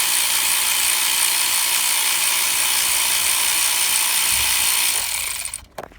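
An ACDelco ARW1209 cordless ratchet backing out TCM cover screws, running in a steady, loud mechanical whir for about five seconds before stopping with a few clicks.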